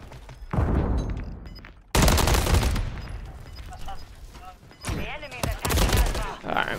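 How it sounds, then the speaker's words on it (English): Heavy automatic gunfire rattles in Call of Duty MW3 ranked play, long loud bursts and a sudden intense volley, with voices talking over the firefight. "No, that's a big gunfight."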